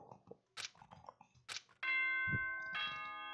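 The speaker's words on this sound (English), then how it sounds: "ding dong bing bong" A school announcement chime sounds in the Danganronpa video game: a bright, ringing ding-dong tone with sustained bell-like overtones, following a short stretch of game dialogue and effects.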